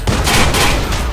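Sniper gunfire in the video game Watch Dogs: a short, loud burst of shots rings out close, with no talk over it.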